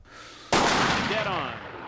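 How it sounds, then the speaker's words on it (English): A single sharp rifle shot in the America's Army military shooter game cracks suddenly and loud, then rings out in a long fading echo tail. "Good shot. That's a hit."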